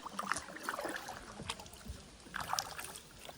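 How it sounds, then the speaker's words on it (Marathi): A kayak paddled along the water on the Konkan coast near Malvan, with faint irregular paddle dips, drips and small splashes over a quiet wash of water. "तर मित्रांनो आमची कायाकिंग एकदम सक्सेसफुल चालू आहे एकदम."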